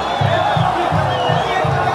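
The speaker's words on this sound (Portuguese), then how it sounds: "Torcida comemora 3-1 aqui" Vasco supporters in a packed stadium crowd roar and chant after their side goes 3-1 up against Marcílio Dias, a loud continuous wall of cheering with rhythmic low thumps pulsing through it.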